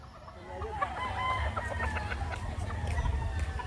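White Kelso rooster on a farm clucking and calling close by in short, repeated bursts over a low background rumble, with other chicken sounds mixed in.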